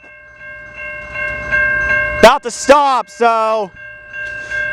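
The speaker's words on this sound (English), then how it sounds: "Alright guys, the train just stopped." An NS freight train idles at a railroad crossing near a yard, its steady tonal hum and bell-like ringing running throughout, cut by three loud, sweeping brake squeals or horn-like blasts midway; a brief word is spoken.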